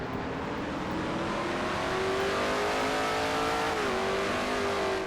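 A race car in a racing sim braking hard from about 144 mph into turn 7, downshifting to first gear, the loud engine drone falling in pitch as speed drops, steady and close.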